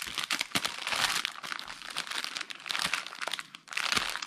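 Crinkly plastic packaging of a diamond art kit being opened by hand, with loud, dense crackling and rustling in bursts, close to the microphone, alone with no talk.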